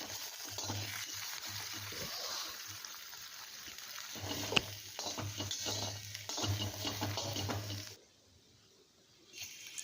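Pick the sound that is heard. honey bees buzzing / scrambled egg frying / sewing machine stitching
scrambled egg frying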